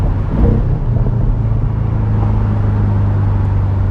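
A Porsche 718 Boxster GTS engine revs on a downshift, a loud, steady low rumble and whir that sounds close by, with no talking over it.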